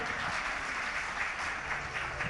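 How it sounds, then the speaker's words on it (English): Brief, steady applause from an audience at a red-carpet awards event, a dense even wash of clapping heard at moderate distance with no break. "big round of applause for Smriti Rani ji and also Mr. Allu Arjun"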